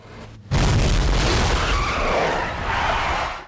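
A sudden loud impact as one car crashes into another, with a sharp onset and then sustained crunching noise before it cuts off abruptly.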